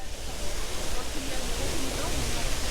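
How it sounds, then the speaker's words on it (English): Steady broadband rush of splashing water from a public fountain in Trafalgar Square, London, a continuous hiss with faint crowd murmur beneath it. "There's one of the fountains."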